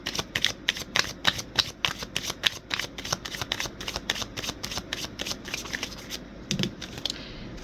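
Tarot cards are shuffled in a fast, steady run of crisp riffling clicks, fairly close and alone, slowing and trailing off near the end.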